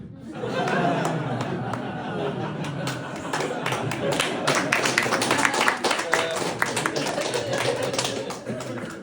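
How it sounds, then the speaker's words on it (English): Comedy club audience breaking into applause mid-set, a dense wash of many hands clapping with murmuring chatter and some laughter mixed in, holding steady and full for around nine seconds. "I was not expecting an applause break"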